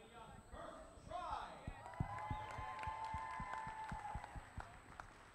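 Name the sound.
audience applause for a robotics team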